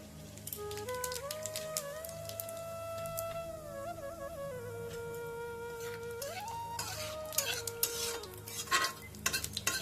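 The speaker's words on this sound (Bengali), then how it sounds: "তেলের মধ্যে দিয়ে দিচ্ছি ফোড়নের জন্য গোটা জিরে" Whole cumin seeds sizzling in hot oil for tempering, a soft hiss under background music, followed by clinking and scraping of a utensil against the pan near the end.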